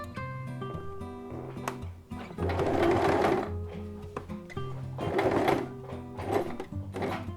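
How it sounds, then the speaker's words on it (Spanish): A sewing machine stitches a zipper on a reversible roll-up placemat, running in two sustained whirring bursts with brief pauses and clicks between, close and clear, without anyone talking. "Entonces vamos a coser hasta donde choque el prensatelas con el"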